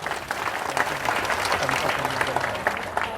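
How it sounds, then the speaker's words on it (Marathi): Audience clapping at a gathering during a Buddhist monk's talk, a continuous dense patter of many hands at moderate loudness, steady from start to finish with some murmuring underneath. "पुनश्च एकदा यूट्यूबसाठी टाळ्या वाजवा"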